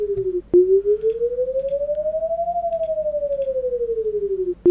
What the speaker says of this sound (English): that's the warning you will hear when a observed tornado is there